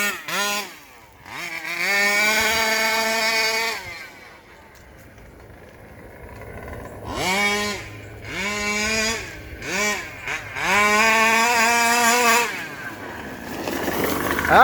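A Rovan 5B RC car's small two-stroke engine, fitted with a new carburetor, revs up hard in repeated high-pitched bursts close by, dropping back to a rough idle between pulls.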